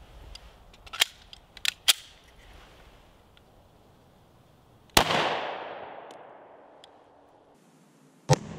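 Several 9mm Civil Defense 50-grain rounds are fired into ballistics gel outdoors: sharp, loud single shots at irregular intervals, one followed by a long rolling echo.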